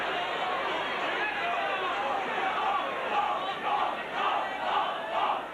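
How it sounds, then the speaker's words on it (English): A rugby league crowd at a 1989 Leeds versus Warrington match roars and shouts continuously at a sending-off, a dense, loud wall of massed voices with rising waves of shouting. "Off, shout the crowd."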